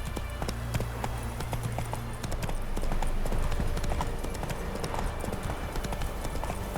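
Horse hooves clip-clopping at a quick, even pace in The Witcher 3, close and crisp over a low rumble of background music, with no speech.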